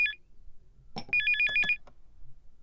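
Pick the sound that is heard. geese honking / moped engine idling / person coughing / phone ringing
phone ringing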